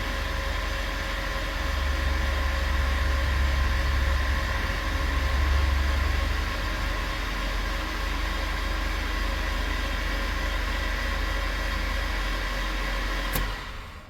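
A vehicle engine idles steadily on its first start after a throttle body install and bearing replacement, a constant near hum with a low rumble throughout and a brief sharp click near the end.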